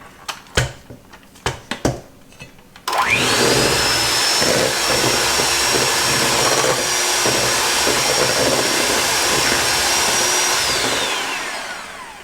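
An electric mixer beats cookie dough with vanilla for snowball cookies, starting after a few clattering knocks and then running as a loud, steady motor whir close up for about nine seconds before spinning down.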